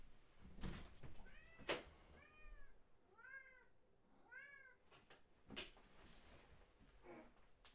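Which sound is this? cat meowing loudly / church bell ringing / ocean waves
cat meowing loudly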